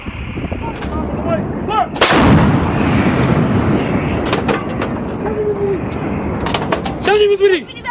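M777A2 howitzer fires a single heavy, sharp boom with a long rolling tail. Shouting crew voices are heard before and after the shot.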